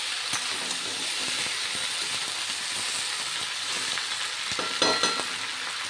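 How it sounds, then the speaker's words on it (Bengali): Ivy gourd frying in a pan with a continuous loud hissing sizzle, broken by occasional scrapes and taps as the vegetables are stirred, growing briefly louder near the end. "ভালো করে নেড়ে চেড়ে নিচ্ছি।"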